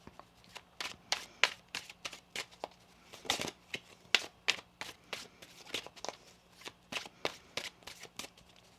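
A tarot deck is shuffled in a quick series of crisp riffling flutters and soft taps, close and quiet, in irregular bursts.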